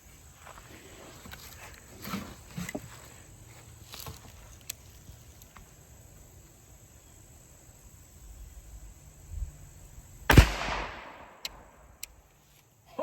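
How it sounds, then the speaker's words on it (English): A single sharp gunshot fired into a ballistic gel block outdoors, sudden and loud near the end, following quiet ambient noise and a few faint rustles. "We're gonna shoot again, see if we can hit a little bit lower."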